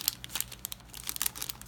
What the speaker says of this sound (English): As I try to put them back and rip the plastic bag.